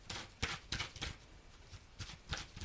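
Tarot cards are shuffled and laid down in quick, close bursts of papery riffling and soft slaps, about six in under three seconds.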